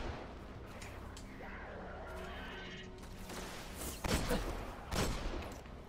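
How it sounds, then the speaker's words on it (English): Pistol shots from the Xbox One game Destiny, two louder bursts near the end over a busy game soundscape of ambience and effects. "Man, this gun is not as strong as I thought it would be for a pistol"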